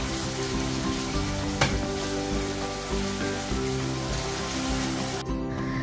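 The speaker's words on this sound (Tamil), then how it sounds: "இப்போ வந்து ஆனியன் வந்து நல்லா ஃப்ரை ஆகிடுச்சு." Onions frying in hot oil in a large pot for street-style chicken dum biryani, giving a loud, steady, dense sizzle throughout with one brief clatter partway through.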